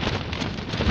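Strong wind buffeting a tent on a frozen lake during winter fishing, a loud close roaring rush with gusty surges and flapping noise throughout.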